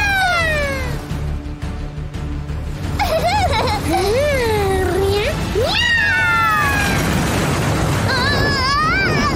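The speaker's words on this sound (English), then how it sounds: "Meow, meow." A cat meows repeatedly, long drawn-out wails rising and falling in pitch, loud and close over a steady background noise.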